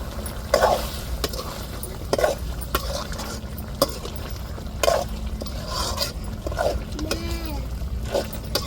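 Chicken curry sizzling in a pan while a spoon stirs it, soft scraping strokes recurring every second or two over a steady low fry, moderately close with no talking.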